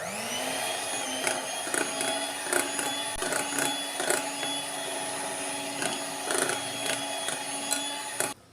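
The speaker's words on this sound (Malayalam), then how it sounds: "ഒന്നുകൂടി ഒന്ന് നന്നായിട്ട് ബീറ്റ് ചെയ്ത് കൊടുക്കുക." An electric mixer beats red velvet cake batter with butter and sunflower oil, whining steadily with a bright tone and repeated clattering knocks of the beaters against the bowl.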